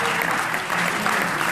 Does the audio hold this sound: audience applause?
yes